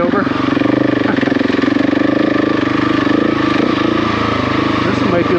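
A KTM motorcycle on a rocky mountain trail in Southern BC gives a steady, loud mid-pitched engine drone with no clear revs, under talk.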